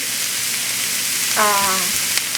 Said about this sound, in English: Just the onion and the garlic and the olive oil.